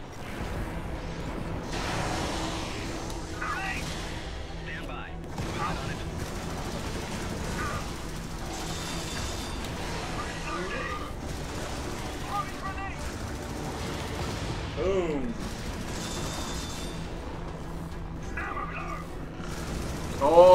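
Bursts of automatic gunfire crackle in Helldivers through a long chaotic firefight, joined by whooshes and booms, with voices talking over the action and a loud hit at the end.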